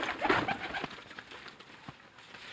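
Sialkoti flying pigeons cooing close by in a short burst, with soft low calls and faint wing movement fading out.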